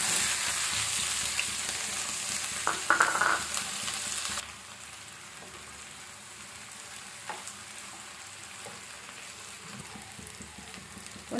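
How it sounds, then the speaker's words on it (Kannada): Chopped onions drop into hot oil in a pan for a restaurant-style kaju masala and sizzle steadily, a bright, loud fry that suddenly drops to a softer, quieter sizzle partway through. "ಎಣ್ಣೆ ಬಿಸಿ ಆದಮೇಲೆ ಕಟ್ ಮಾಡಿ ಇಟ್ಕೊಂಡಿರೋ ಈರುಳ್ಳಿ ಹಾಕ್ತಾ ಇದ್ದೀನಿ."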